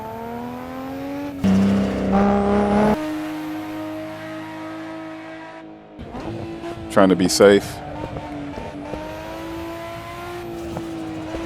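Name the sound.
Nissan Skyline R34 driving on track, braking and throttling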